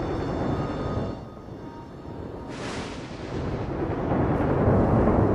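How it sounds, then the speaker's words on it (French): A violent storm rumbles with deep, rolling thunder, a long low roar that swells, dips briefly, then builds again into a heavier crack and sustained rumble, loud and with no one speaking. "de violents orages ont éclaté au-dessus de cette région"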